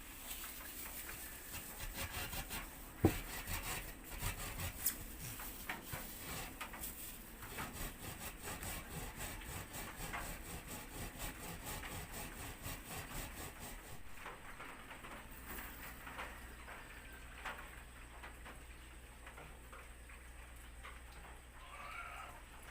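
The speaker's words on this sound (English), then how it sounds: "rub the cassava in an up and down motion against the medium-sized holes on the grater" Cassava is rubbed up and down against the medium holes of a hand grater, giving a faint, steady scraping and rasping that continues for a long stretch with no one speaking.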